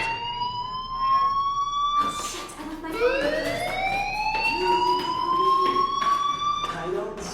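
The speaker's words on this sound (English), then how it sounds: "do you hear that fire alarm? That means you should be outside." A fire alarm wails inside the video game Life is Strange, its loud tones sweeping up and holding in repeated cycles that fill the whole stretch.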